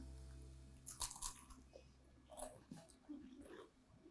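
A macaron being bitten, several small crisp crunches in close succession, quiet and near, with faint breathing and soft voices around it.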